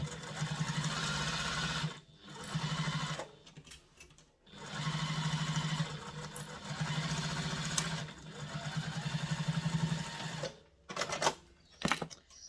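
A sewing machine bastes a seam on a handmade baby diaper bag, running in steady bursts of stitching about two seconds each with short pauses between them, then a few quick clicks at the end.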